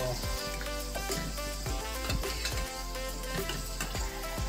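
Pork crackling frying in hot oil, a dense, continuous crackling sizzle with sharp pops and occasional clinks of a utensil, close and steady throughout.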